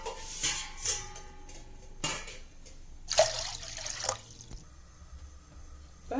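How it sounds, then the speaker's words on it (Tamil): Two tumblers of water poured into a cooking pot for making flaxseed gel, close splashing bursts that start and stop several times, with drips between the pours. "ஒரு 2 டம்ளர் அளவு தண்ணி ஊற்றிக்கலாம்."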